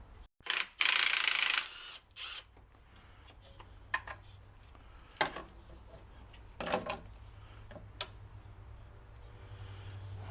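A ratchet wrench with a 13 mm socket works at stiff spark plugs, giving a few faint scattered clicks and knocks with short pauses, close and quiet.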